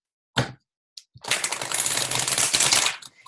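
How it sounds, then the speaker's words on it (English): A tarot card deck being shuffled by hand, two short flicks and then a sustained riffling burst of cards lasting about two seconds, close and alone. "I can give it one more shuffle here"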